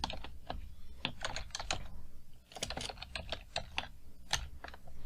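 Python code typed on a computer keyboard, a steady, rapid run of close key clicks continuing throughout with no voice over it.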